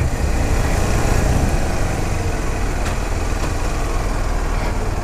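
A Kawasaki Ninja 125 motorcycle engine idles steadily at a raised rev, about 2000 RPM, its loud, even drone running unbroken throughout with no voices.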